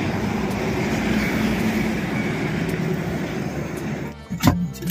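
A train passes in the distance near a highway, a low continuous rumble and rattle that holds steady. It is followed near the end by a brief louder knock and a burst of nearby noise.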